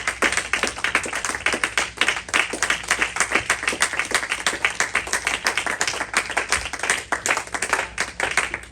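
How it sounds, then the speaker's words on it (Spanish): A church congregation at a Sunday communion service claps together, a loud, sustained burst of many hands that stays dense and even, almost rhythmic, throughout with no talk over it. "Le damos un aplauso al Señor"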